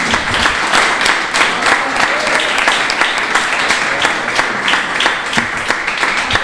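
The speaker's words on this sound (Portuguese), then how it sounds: "Aplauda o Senhor Jesus." A church congregation at an IEQ service in Hortolândia breaks into loud, full applause, many hands clapping densely with some stronger rhythmic claps standing out, with faint voices underneath.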